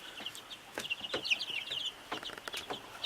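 Young chickens cheep and cluck in a busy, overlapping chorus of high, short calls, close by and fairly soft.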